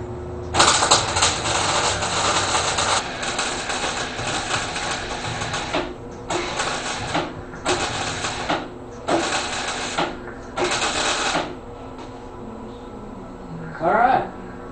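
MIG welding on a forge hood runs as loud crackling buzzing bursts, one long run followed by four shorter welds with brief pauses, then a final faint clank.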